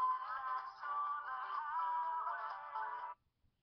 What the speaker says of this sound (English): Custom ringtones.